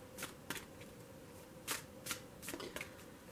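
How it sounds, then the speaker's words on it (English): A deck of tarot cards is shuffled by hand, giving a few quick riffling bursts and soft slaps close by, with no talking. "Just bear with me as I shuffle."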